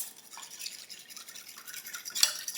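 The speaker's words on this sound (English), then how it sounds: "All right, now we're just going to give everything a mix." Sauce ingredients including rice wine vinegar are stirred together, giving faint, soft scraping and swishing strokes in an irregular rhythm with a brighter clink near the end.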